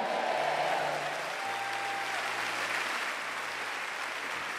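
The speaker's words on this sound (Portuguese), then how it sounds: "dê glória a Deus e aplauda o Senhor" Steady applause from a church congregation fills the room, moderately loud and unbroken, with soft sustained keyboard tones underneath.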